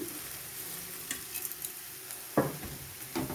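Vegetables for veg Manchurian sizzle quietly in a pan, with a few sharp scraping stirs breaking through the steady frying hiss and no talking.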